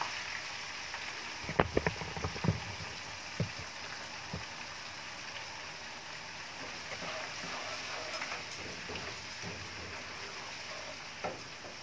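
Garlic and ginger sauté in a pan for an egg and chickpea biryani, giving a steady soft sizzle and hiss throughout, with a few light clicks and stirring taps early on.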